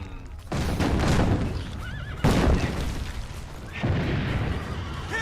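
A horse neighs loudly and repeatedly in Assassin's Creed: Brotherhood, with whinnies over a dense rumble of hooves, booms and battle noise.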